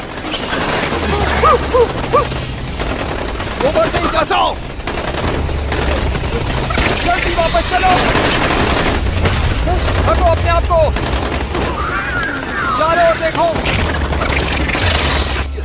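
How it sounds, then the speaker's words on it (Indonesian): Rapid bursts of gunfire crackle repeatedly over a long stretch, mixed with booms and shouting voices, busy and loud throughout. "Mereka pun segera melepaskan tembakan."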